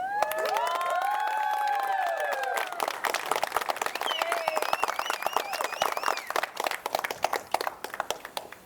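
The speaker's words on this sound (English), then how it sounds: "please give Henry and Jacqueline a big round of applause" Wedding guests clap and cheer for the newly married couple, a crowd of steady applause with whoops and shouts, while a sustained tone sounds at the start.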